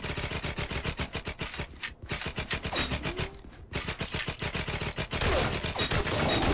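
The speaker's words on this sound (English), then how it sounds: "I like how when you shoot the chain, it still makes like a bullet noise" Rapid automatic gunfire in the video game Blood & Bacon: a dense, rhythmic stream of bullet shots, loud and nearly continuous with a couple of brief pauses.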